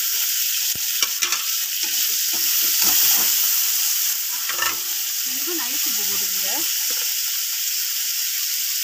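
Onions sauté to medium softness in a pan for a cowpea (thattapayiru) kuzhambu, a steady close sizzle broken by stirring clatter and scraping, with a voice briefly audible toward the end.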